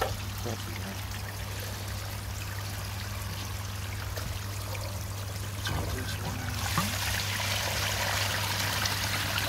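Steady rushing and trickling of dark, algae-green water draining from a koi pond filter, a continuous wet flow with a low hum underneath and faint voices in the background.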